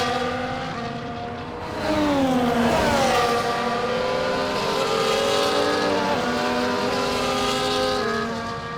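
F1 24 video game race cars on the formation lap of the Netherlands Grand Prix in dry conditions, several engines droning and revving together with rising and falling pitch, loud and continuous throughout.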